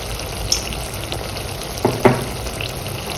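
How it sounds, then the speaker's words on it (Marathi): Onions sautéing in a pan for kat vada give a soft, steady frying hiss, with a couple of brief utensil scrapes breaking through near the end. "आपला कांदा छान परतून झाला आहे."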